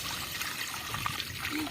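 Water is poured into a pot, a soft steady trickle and splash at close range that runs continuously without any voices.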